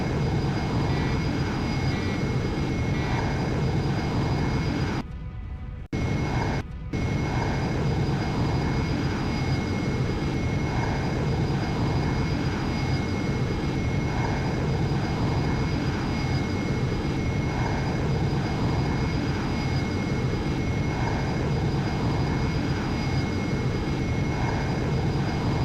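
Steady, loud drone of a bomber aircraft's engines in a video game, droning continuously with a brief drop-out around the fifth second, no voices over it.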